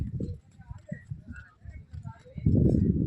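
Horse hooves clip-clopping on the sand at Nagore Beach, a steady uneven patter close by under continuous chatter, growing louder and busier near the end.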